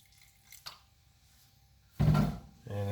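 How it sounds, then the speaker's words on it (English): Tap water splashes briefly into a bowl of bread dough in a short burst after a near-silent pause. "so I add just a little bit of water,"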